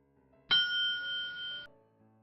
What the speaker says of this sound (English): I did hear the bell go off. It was just very faint.